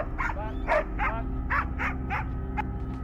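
Hunting dog barking during a wild boar hunt, a series of about eight sharp barks and yips in an uneven rhythm, fairly close, over a steady low rumble of background noise.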